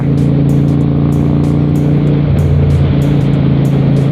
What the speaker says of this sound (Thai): เสียงท่อเดิมก็ ไม่ได้เงียบนะครับ